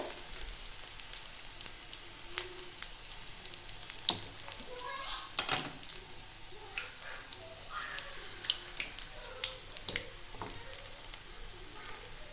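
Chicken tikka pieces frying in oil on a low flame, a soft steady sizzle with scattered pops and occasional spatula scrapes, fairly quiet and close.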